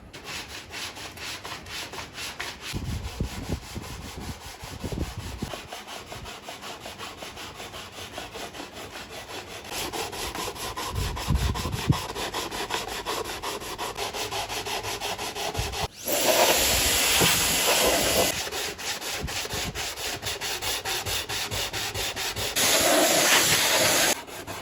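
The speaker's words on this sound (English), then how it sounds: "Time for some 80 grit sandpaper." Hand sanding carved wood with 80 grit sandpaper while shaping a vintage 1960s Veron Caribbean Coaster model boat, continuous rhythmic rasping strokes up close, growing louder and brighter in the later passes.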